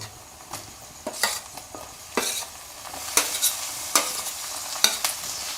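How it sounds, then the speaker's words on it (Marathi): Chopped tomatoes go into onions frying in a pan, giving a steady hiss and sizzle broken by a handful of sharp spatula scrapes and stirring clatters, close up with no talking. "आपण यामध्ये टमाटे टाकून घेऊ"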